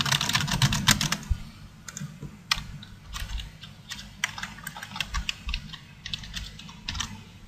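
Fingers type on a computer keyboard while a new blog post is composed in Blogger, giving steady clusters of close, crisp key clicks with brief pauses and no talking.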